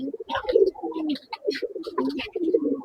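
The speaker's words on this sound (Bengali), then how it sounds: "এই যে দেখেন আপনারা সবাই, এই যে এগুলো মাদি কবুতর" Female breeder pigeons coo in soft, throaty rolling bursts close by, several overlapping calls repeating over a few seconds, with no other sound competing.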